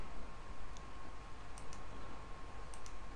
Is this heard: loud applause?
no